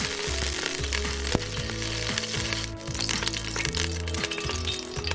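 Oil crackles and sizzles steadily in a hot cast iron pan, with sharp pops scattered over a continuous frying hiss, close and fairly loud with no voices.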